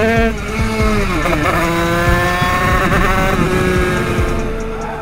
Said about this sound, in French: j'ai repris la moto en main, du coup la mienne cette fois, le DTR 96